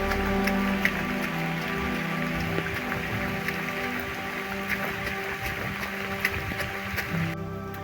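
Rain patters steadily on surfaces nearby on a muddy mountain trail, a dense even hiss with scattered drops, plus a faint low engine-like hum underneath.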